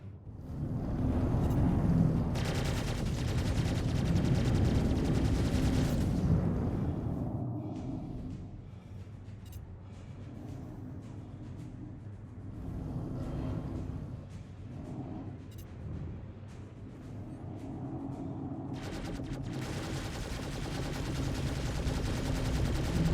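Ship weapons fire during a space dogfight in the video game Star Citizen, involving a Drake Corsair, heard as a dense, continuous rumble of rapid blasts, loudest at the start and end, with no talking.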